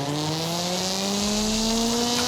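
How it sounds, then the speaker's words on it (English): A rally car engine in the racing game Forza Horizon 5 roars steadily and loudly, its pitch climbing smoothly as it revs up under hard acceleration, with no other sounds competing. "now that is how a rally car should sound"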